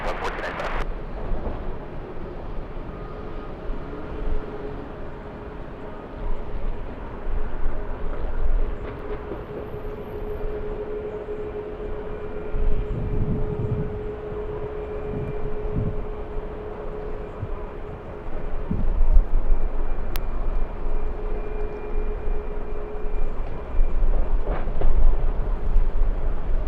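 An airliner takes off from runway 24 left at Los Angeles International Airport, heard as a broad, distant roar that swells gradually through the clip with faint background noise.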